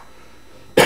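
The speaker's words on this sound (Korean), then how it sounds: "기침 나올 때마다 깜짝 놀랍니다" A single sharp cough bursts out near the end during a robotics lecture, loud and close after a quiet stretch of room tone.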